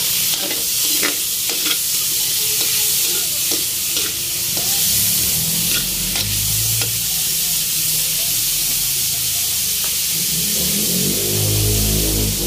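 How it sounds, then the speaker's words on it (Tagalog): Pork sautés in a pan for laing, a loud continuous sizzle broken by sharp utensil clicks and scrapes against the pan, with bubbling, popping fat swelling toward the end. "So, sautay lang natin yung ating pork."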